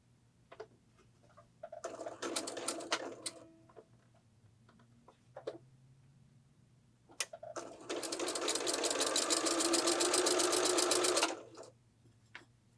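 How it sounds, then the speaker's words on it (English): A sewing machine stitches the rows of a Colliding Geese quilt block, running in a short burst and then a longer steady whir that stops abruptly. The machine is close and loud, with no talk. "So when we go to sew our rows"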